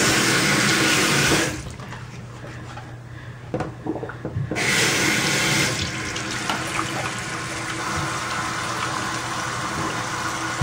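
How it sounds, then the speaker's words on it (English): A tap runs loudly into a sink while hands are lathered and washed with a bar of soap, the steady gush dropping out for a few seconds in the middle, then resuming. "I'm going to use it to lather and wash my hands."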